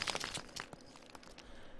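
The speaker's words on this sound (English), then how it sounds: "And then we've got some kind of falling rock sounds." Falling rock sounds for a stone spell effect: quiet gritty crunches and crumbly clatters of stone pieces tumbling in a loose, irregular patter.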